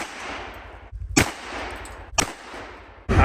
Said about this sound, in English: single hand shooting a 12 gauge pump is hard